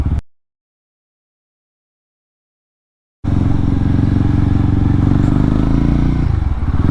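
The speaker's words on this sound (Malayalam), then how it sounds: "450cc ഒരു ഗൊറില്ല എന്ന് പറയുന്ന ബൈക്ക്" A Royal Enfield Guerrilla 450 motorcycle with a 450cc engine is ridden. Near-silence gives way abruptly to a loud, steady engine drone mixed with wind rush that holds to the end.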